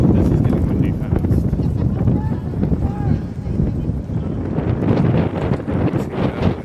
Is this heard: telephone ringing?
no